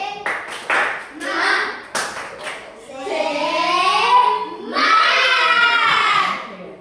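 A group of children does the rhythmic 'tepuk semangat' cheer clap, with sharp hand claps in a patterned beat mixed with loud chanting voices close by.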